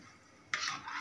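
A spoon scrapes and stirs Assamese fish curry cooked with leaves in a pan. After a quiet start, a brief, soft scraping and stirring sound follows, with no speech.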